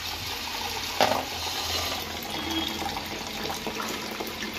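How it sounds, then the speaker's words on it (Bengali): Water pours into a pan of simmering fish curry, a steady close wash of liquid noise with a sharp clink near the start and faint bubbling throughout. "পানিটা অ্যাড করে দেবো।"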